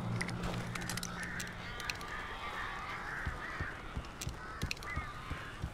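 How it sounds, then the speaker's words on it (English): Crows cawing in the game Alan Wake at a trailer park, a noisy cluster of harsh overlapping calls and flapping under rumbling ambience, fairly close and continuous, no talking. "We're probably gonna need to blast these flares at these birds."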